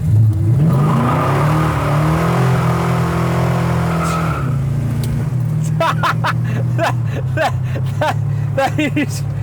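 Loud 1970s Dodge Charger muscle car engine roaring as it accelerates hard, then shifting, with excited voices talking over the rumble in the second half.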